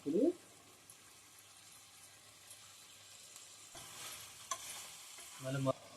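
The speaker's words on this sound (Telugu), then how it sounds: "ఇది ఎలా మగ్గుతుంది కదా కూర" Chicken curry with tamarind leaves cooks quietly in a pan with a faint, low bubbling and sizzle. A few louder stirring knocks come near the start and end, and another stirring scrape is heard around the middle.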